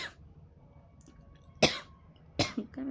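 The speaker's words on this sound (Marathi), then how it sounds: "काय माहीत कसं काय खोकला" A woman coughs twice in a quiet indoor room: two short, loud, rough bursts spaced under a second apart, with near-silence before and after.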